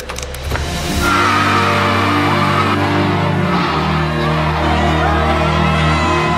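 A group of children shriek and cheer loudly as lights are switched on, a sustained excited crowd roar rising after a brief start and holding steady at close range.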